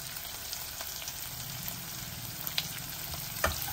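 Onions frying with turmeric in a pan for a Telugu buttermilk rasam, a steady close sizzle with occasional soft stirring scrapes and small pops, no voices.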